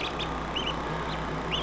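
Small ducklings in a garden give several short, high peeping quacks in quick scattered bursts, fairly near, over a steady low background hum with no talking.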